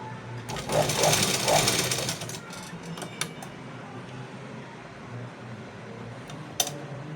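A sewing machine stitches pleats into fabric in a fashion class, a short burst of fast, whirring, rattling stitches that fades to quiet room tone with a few light clicks.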